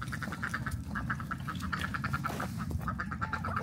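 Ducks on a frosty farmyard quack in a steady run of short, repeated calls, fairly close and loud over a low rumbling background, with no talking.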